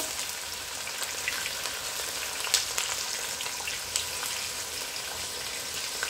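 Onions and garlic frying in a pan as the base of a peanut sauce for oxtail, a steady hissing sizzle with a few small pops and clicks, close and even throughout.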